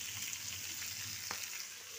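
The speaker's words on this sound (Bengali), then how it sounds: "পালং শাকটা একটু নরম হবে, একটু ভাজা ভাজা হোক।" Spinach sizzling in hot ghee in a pan while being cooked for moong dal, a soft continuous frying crackle with a faint stir, no voices.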